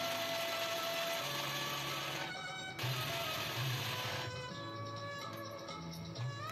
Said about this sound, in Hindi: तो मिक्सी में ही इसको ग्राइंड कर लिया।